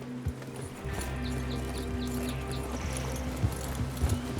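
Horses move in a Wild West video game, their hooves clip-clopping in a steady rhythm under continuous ambient rumble, with a brief whinny-like cry partway through.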